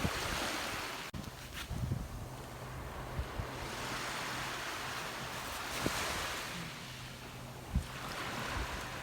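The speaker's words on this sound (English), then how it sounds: "Oh, here comes the water." Ocean waves wash in on a beach shore, a broad steady roar of surf with swelling surges, mixed with wind buffeting the microphone and a few faint thumps.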